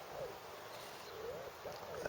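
A pigeon coos faintly several times, soft repeated low calls heard from a short distance over a steady background hiss, with no talking.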